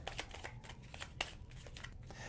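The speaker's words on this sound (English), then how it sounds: "we're going to give it a shuffle." Crisp riffling bursts of a deck of cards being shuffled, quick irregular flutters up close, fairly quiet with no talking.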